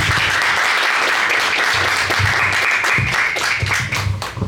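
Audience applause for Sofía Martín at a tribute to Martín Adán in Rímac, a dense, steady wash of clapping from a sizeable crowd that fills the whole stretch at close, even loudness.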